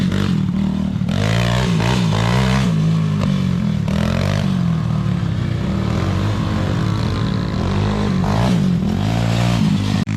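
A Honda four-wheeler ATV revs and labours through a bumpy dirt pit, loud and close, its engine note rising and falling with repeated throttle bursts and rattling clatter.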